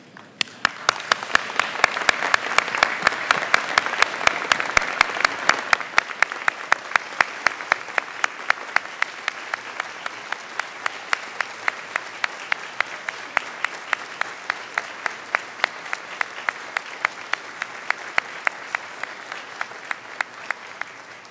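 Graduates at a university convocation ceremony give a standing round of applause; a full crowd claps loudly and continuously, swelling early and then settling into steady, sustained clapping for about twenty seconds.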